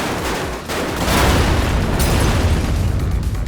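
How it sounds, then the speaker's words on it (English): A massive explosion erupts with a loud, dense rumbling blast that swells after a brief dip and sustains a roaring, crackling boom for several seconds. "With this massive explosion, you see it land and lands on top of Red Eyes"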